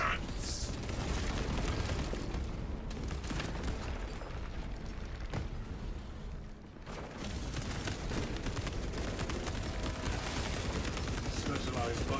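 Heavy cannon fire and rapid gunfire rage in the video game Space Marine 2, a dense continuous barrage of blasts and mechanical clatter with a short dip midway, mixed with battle noise.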